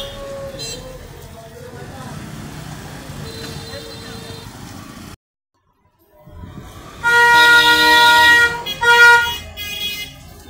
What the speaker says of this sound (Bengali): এত সাউন্ড কে গাড়ির?